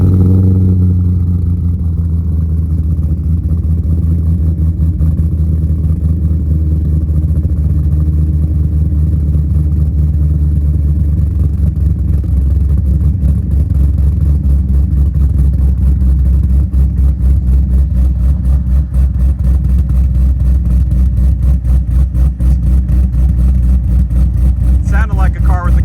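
A cammed Corvette engine rumbles loud and close while driving, a deep throbbing idle swelling into revs with a choppy lope, with heavy wind buffeting throughout and a voice talking over it.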